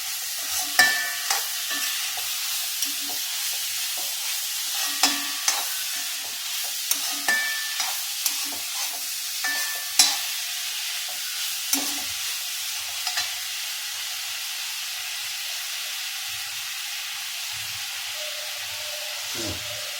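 Chopped tomato sautéing in a pan for Chettinad brinjal thokku, a steady hiss of frying broken by irregular scrapes and knocks of a spoon stirring, close and fairly loud, with no talking.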